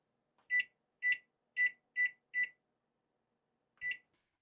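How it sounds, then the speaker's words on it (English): An oven timer gives five short, evenly spaced electronic beeps in quick succession, a pause, then one final beep, crisp and close in an otherwise quiet kitchen. "And we're going to set our timer for 60 minutes."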